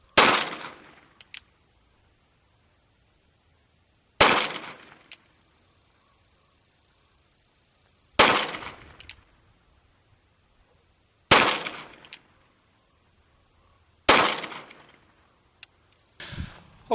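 Five loud, sharp gunshots from a Cimarron Richards Conversion Type 2 revolver in .44 Special, firing Trail Boss reloads with 240-grain bullets, spaced a few seconds apart, each with a short ringing decay and faint clicks between shots.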